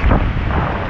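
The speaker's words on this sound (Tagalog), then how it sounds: "Ang lakas ng ulan, hangin" Strong typhoon wind under Signal No. 4 conditions roars steadily with heavy rain, a loud continuous rushing blast buffeting the microphone for a brief moment.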